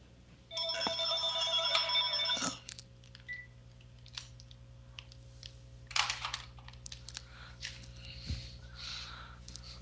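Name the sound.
telephone ringing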